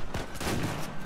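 Gunfire in Uncharted 4 sounds as a quick cluster of loud, close shots in about a second of sustained rumbling combat noise, with no voice over it.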